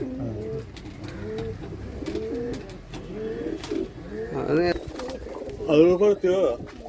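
Show pigeons coo in throaty, repeated bursts close by, growing louder near the end, with someone talking over parts of the calls.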